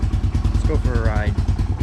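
Motorcycle engine idling just after starting, a steady, close putter of even pulses with a person briefly talking over it.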